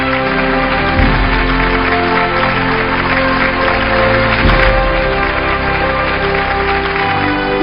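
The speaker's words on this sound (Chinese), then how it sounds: "掌声有请。" An audience at an award ceremony claps loudly and continuously, dense applause filling the hall from start to finish with swells near the beginning and middle.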